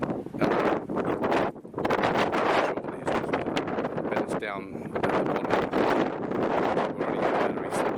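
Strong gusty wind buffets the microphone on the summit of Peak Charles in repeated rough bursts, with brief lulls between, while a person speaks briefly underneath.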